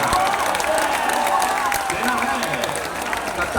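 A dense crowd at a Jan Suraaj political rally addressed by a speaker claps continuously and loudly, a thick wash of applause with some voices mixed in.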